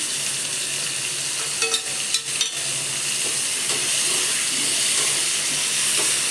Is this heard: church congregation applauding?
no